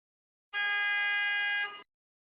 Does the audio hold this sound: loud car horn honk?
yes